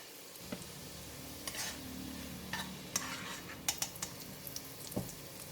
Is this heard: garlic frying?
yes